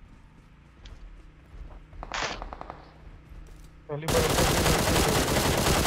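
Gunfire in the mobile battle royale PUBG Mobile: a few scattered shots under talking, then a sudden loud, sustained burst of automatic fire fills the last two seconds.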